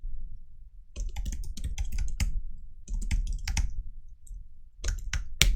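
Close computer keyboard keys pressed in clustered bursts, a shortcut combination being tapped, with rapid clicks separated by short pauses.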